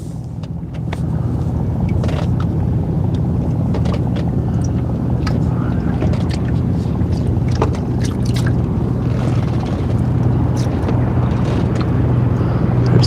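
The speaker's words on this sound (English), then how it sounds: "There's a big old cruising boat going by." Large cruising boat passing on open water, heard as a loud, continuous engine and hull rumble with steady wash and wind noise, close by for the whole stretch.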